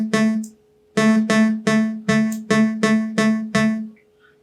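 A buzzy square-wave synthesizer tone plays a short pattern of about eight plucky notes, each with a quick attack and short decay, one longer note first, then a steady rhythm.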